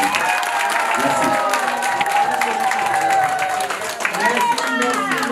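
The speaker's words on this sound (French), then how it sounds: "Je pense que les applaudissements sont spontanés" Spontaneous applause from a political gathering honouring comrade Latir, a steady wash of clapping mixed with crowd cheering and voices that holds loud and dense throughout.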